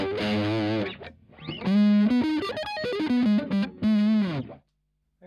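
An electric guitar is played through a Boss MD-2 Mega Distortion pedal, giving a crunchy overdrive-like tone in a loud phrase of held notes and slides with short pauses between them, ending in silence.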